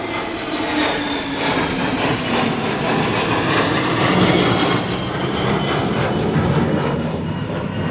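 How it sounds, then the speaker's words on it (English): Jets flying overhead, a loud, steady broadband roar that swells slightly in the middle, heard outdoors with no talking. "there's jets flying overhead."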